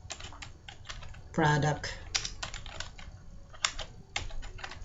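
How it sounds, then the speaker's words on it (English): Keys clack in quick, uneven bursts on a computer keyboard, close and clear, with a brief spoken word partway through. "First, I will type"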